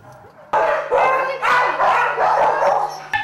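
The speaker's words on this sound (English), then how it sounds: "6 new dogs arrived to fill empty cages." Several dogs bark and yip in a chorus at an animal shelter, newly arrived dogs in cages, with overlapping barks filling the space continuously after a quiet start and a steady low hum beneath.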